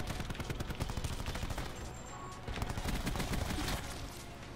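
Rapid bursts of gunfire in a shooter video game, dense and continuous across the clip with overlapping shots at steady loudness.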